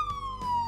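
A police car siren wails in the Brick Rigs video game, one loud steady electronic tone sliding slowly downward, close and continuous through the short moment with no talk over it.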